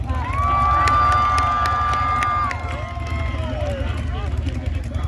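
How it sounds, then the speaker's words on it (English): A large crowd at a Monster Jam event cheering and shouting for a stunt, loud and sustained for a couple of seconds and then easing into broad crowd noise, with high-pitched shrieks above it. "I have a decimeter to measure your applause. Let's hear it for the Scarlet Bandit."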